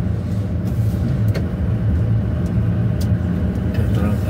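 A bus passing on a road through a forest at dusk after heavy rain, its engine a loud, steady low rumble with a close whoosh, and occasional sharp clicks over it.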